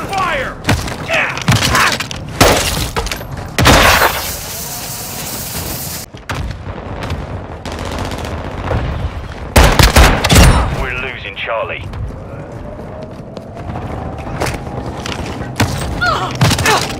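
Rapid bursts of gunfire from Modern Warfare 2 multiplayer combat, loud and close, with sharp shots and thuds layered over a continuous battle din and occasional voice callouts.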